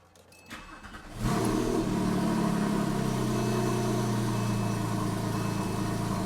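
A car engine cranks briefly after sitting about 12 hours, fires up with a rev, then holds a loud, steady cold idle with a rough low drone.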